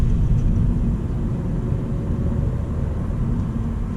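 Steady low rumble and whir of a 2022 Honda Civic RS engine accelerating smoothly, heard from inside the cabin as an even drone that eases slightly after the first second, with no talking.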